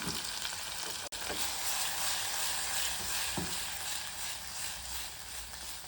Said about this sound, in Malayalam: ഇനിയിപ്പോൾ ഇച്ചിരി ഉപ്പും കൂടെ ഇട്ടേക്കാം അല്ലേ. നല്ലതുപോലെ അടിയിൽ പിടിക്കാതെ ഇളക്കാം.